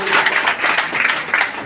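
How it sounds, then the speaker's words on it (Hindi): Audience applause at an award ceremony for Bihar Board class 10 and 12 results at a coaching centre: a dense, steady patter of many hands clapping, fairly close and loud, with slight swells throughout. "जोरदार तालियों से स्वागत करते रहिएगा"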